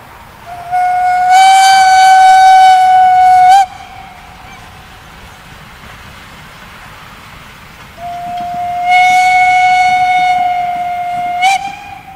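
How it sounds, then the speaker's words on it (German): A heavy colliery steam tank locomotive hauling a heritage freight train sounds its whistle in two loud, long, steady blasts, each ending abruptly, over a low rumble of the running train. "Vorne eine Dampflok, hinten ein paar alte Personenwagen."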